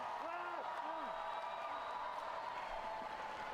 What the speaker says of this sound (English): It's certainly quite a deafening noise coming from the enthusiastic crowd